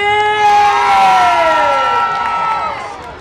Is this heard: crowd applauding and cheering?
yes